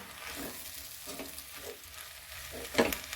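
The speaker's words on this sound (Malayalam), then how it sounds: "ഈ മസാല ഇതുമൊക്കെ പിടിക്കുന്ന തരത്തിൽ ഇളക്കി യോജിപ്പിക്കുക." Macaroni tossed with masala in a pan: soft, close scraping and stirring over a low sizzle, with irregular spoon strokes and one sharper scrape near the end, no voices.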